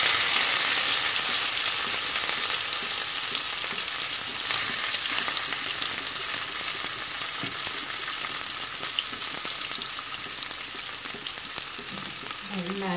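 Rice for tahdig fries in oil at the bottom of a pot over lowered heat, giving a steady, loud sizzle and crackle with no talk.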